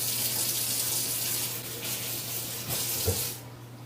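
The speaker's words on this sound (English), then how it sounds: "you need to wash your hands" Kitchen tap running steadily while hands are washed before baking cupcakes, a loud close hiss of water with brief splashes and a fade near the end.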